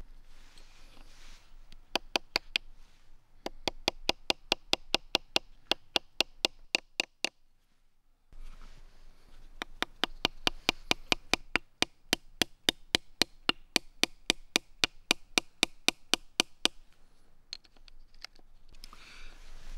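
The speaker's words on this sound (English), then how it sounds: "I hammer those into the wood of a flat log just to hold the stone steady" Small nails hammered into the wood of a flat log to hold a sharpening stone steady: two long runs of sharp, evenly spaced hammer taps, close and fairly loud, with a brief pause between them.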